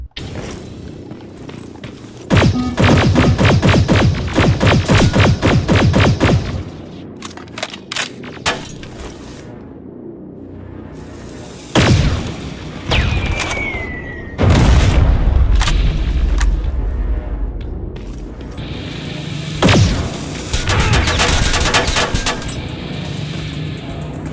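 A grenade in Terminator: Resistance goes off among several loud, booming blasts and bursts of gunfire, heavy thuds recurring across the stretch with quieter gaps between.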